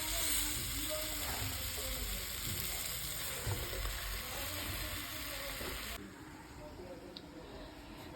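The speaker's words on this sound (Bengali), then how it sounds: "এখন কেটে রাখা পুঁই ডাঁটাগুলো দিয়ে দেব।" Chopped Malabar spinach stems sizzle and fry steadily in a pan of spice masala, with a continuous close crackling hiss that quietens slightly toward the end.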